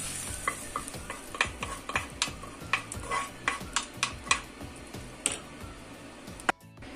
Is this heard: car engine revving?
no